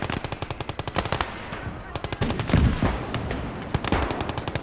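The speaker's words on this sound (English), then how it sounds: "the machine gun on the T-34 there is doing a nice job of keeping those infantry at bay" Rapid bursts of machine-gun fire from a T-34 tank and heavier thuds in a hardcore WWII Eastern Front strategy game, loud and dense with overlapping shots throughout.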